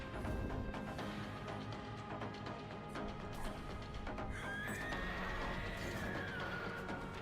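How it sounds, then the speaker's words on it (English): A horse neighs in a swamp-themed action video game, a rising whinny cutting briefly through a dense, noisy game soundscape of rumble and clatter, with no talk over it. "that's the same sound the horse in Bloodborne, the first boss in Bloodborne does"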